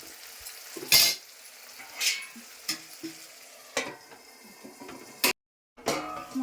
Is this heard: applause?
no